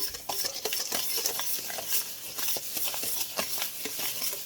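Filling for a vegan lemon pecan pie mixed briskly in a bowl, giving rapid, close, rhythmic scraping and tapping strokes of a utensil that carry on without a break.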